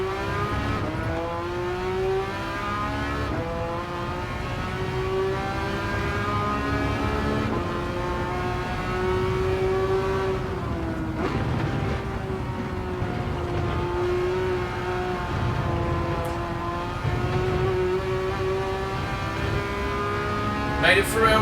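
A race car engine from Gran Turismo 7 drones steadily through the final lap, its pitch climbing and falling with gear changes, while a voice talks over it throughout.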